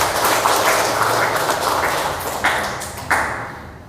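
Applause from an audience at the installation ceremony of a madrasah ibtidaiyah head in Bantul Regency, dense clapping that fills the clip evenly, with a few sharper claps standing out near the end.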